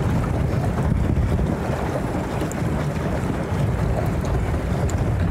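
A pedal boat out on the water near Penticton, heard as a steady wash of water, lapping waves and heavy wind buffeting against the microphone, continuous and close with no clear pauses.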